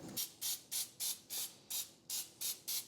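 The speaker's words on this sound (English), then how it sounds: "Now I want to spray my bundt pan with baking spray, which again contains flour." Baking spray, a spray that contains flour, is sprayed into a bundt pan in about nine short, evenly spaced bursts, each one a crisp close hiss, with no voices.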